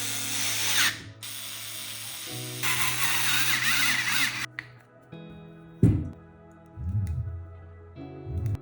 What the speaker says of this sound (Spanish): Continuamos con la cubierta superior. Y unimos todo el conjunto con sus pernos.